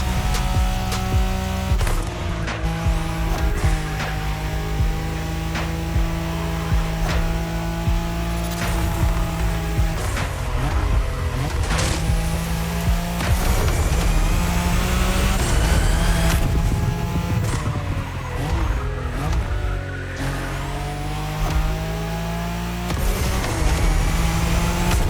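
A Nissan Skyline racing in The Crew Motorfest, a loud sustained engine howl rising and dropping through gear changes, with tire squeal and road roar in a dense continuous mix.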